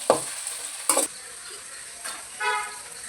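Onions fry in oil for a fish curry while a spoon stirs them in the pan. Steady close sizzling is broken by a few sharp scraping strokes of stirring.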